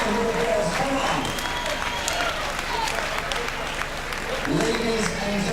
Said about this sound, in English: Both these bodies deserve a big round of applause.